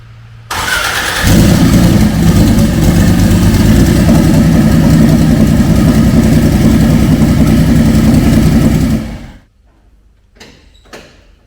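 A drag racing car engine cranks and catches, then roars loudly and steadily at close range for about eight seconds before cutting off, leaving brief faint mechanical clicks afterward.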